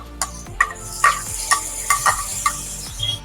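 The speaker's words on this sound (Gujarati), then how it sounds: "હવે કટિંગ કરેલા ટમેટા એડ કરી દેવું." Chopped tomatoes go into a pan of frying onions for a Kathiawadi soya stick curry, with a steady sizzle and a series of sharp stirring scrapes and clinks at a regular rhythm, close and fairly loud, with no talk.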